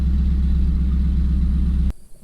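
A Camaro Trans Am WS6 Firebird engine idles after an alternator replacement, a close, steady low rumble with even pulsing that cuts off abruptly near the end, leaving quiet background.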